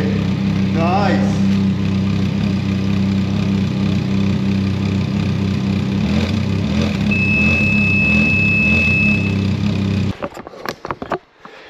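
A Can-Am Ryker 900 Rally fitted with an Akrapovic exhaust idles with a loud, steady rumble, then cuts off abruptly near the end, leaving a few faint knocks.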